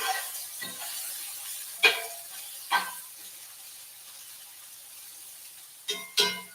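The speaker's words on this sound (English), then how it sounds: "let's check on the eggplant because we hear a lot of sizzling." Eggplant sizzles softly in a pan, a low steady frying hiss broken by a few sharp clinks and scrapes of cookware.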